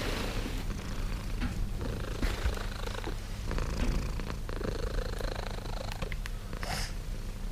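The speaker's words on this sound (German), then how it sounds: "Du schnurst einfach nur." A small cat purring steadily up close, a soft continuous rhythmic rumble with quiet breathy pulses, heard alone without talk.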